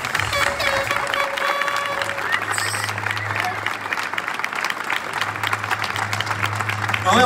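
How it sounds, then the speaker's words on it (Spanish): Strong, sustained audience applause at the closing of the Ekoparty 2023 security conference, a dense roar of clapping from a large crowd with background music humming underneath and scattered voices. "Un fuerte aplauso."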